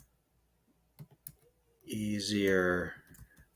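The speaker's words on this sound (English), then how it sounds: "So let me type that in." A few quick, light clicks of typing on a computer keyboard, close and sparse, followed by someone speaking briefly.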